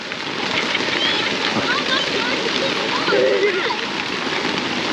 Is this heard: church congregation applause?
no